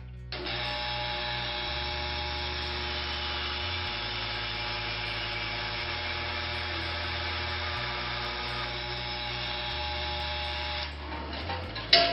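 A bandsaw fitted with a bimetal blade runs steadily while cutting 3/4 ply, with a continuous loud mechanical whine and a low pulsing rattle from the belts, then it stops with a brief clunk at the end.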